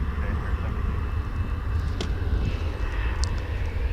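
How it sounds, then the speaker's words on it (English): A Delta airliner takes off in fog at DFW International Airport, bound for Salt Lake City, its engines a steady, distant roar throughout. "Let's see if we can catch any of this Delta flight going off to Salt Lake City"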